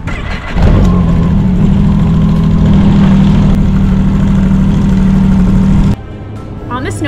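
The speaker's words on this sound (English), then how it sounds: "Okay, start your engine." Snowmobile engine cranking and catching, then a loud, steady close-up idle drone for several seconds before it drops off, with faint talk near the end.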